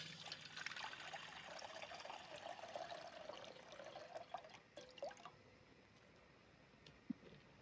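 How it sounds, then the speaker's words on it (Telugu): Water pours into a cooking pot for boiling spinach, a steady trickling splash that thins out halfway and gives way to a few faint drips and a small knock near the end. "పాలకూర బాయిల్ చేసుకోవడానికి వాటర్ పోసుకోవాలి."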